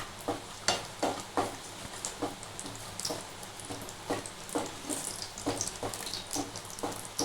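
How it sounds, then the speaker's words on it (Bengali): Cashew nuts frying in a pan over raised gas heat while being stirred for makhana kheer, with soft sizzling and repeated scraping strokes of a spoon, fairly faint and with no talk. "এখানে আমি কাজু বাদামগুলো এর মধ্যে আমি একটু দিয়ে নাড়াচাড়া করে ভেজে নেব"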